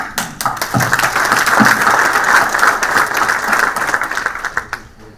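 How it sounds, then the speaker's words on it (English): A burst of audience applause at a conference luncheon swells quickly, holds as a dense wash of clapping, then thins to scattered claps and fades. "I ask you to applaud."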